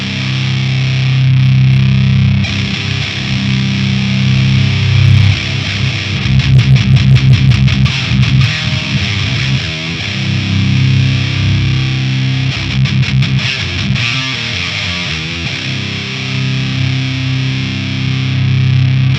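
A heavily distorted electric guitar plays through a Diezel VHX amp on its deep, fat setting, thick and loud, with sustained chords and a burst of fast strummed picking midway.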